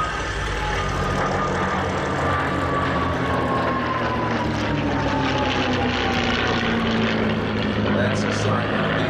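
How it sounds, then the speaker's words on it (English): A Daimler-Benz piston aircraft engine drones steadily and loudly at an air show, its pitch slowly sliding downward as the plane passes, with a continuous rumbling roar. "listen to the noise of the Daimler Benz"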